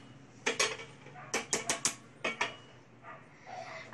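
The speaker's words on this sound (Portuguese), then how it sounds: "Eu vou começar colocando a lata de milho" Canned corn is poured into a blender jar for a corn cake, giving a quick series of sharp clinks and knocks, close and distinct, separated by short pauses.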